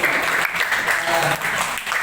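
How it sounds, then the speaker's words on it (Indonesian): An audience claps at a Batak new-year worship service in Jakarta, a short burst of loud, close applause that swells, dips briefly and picks up again. "Jadi kita tepukan lebih dalam."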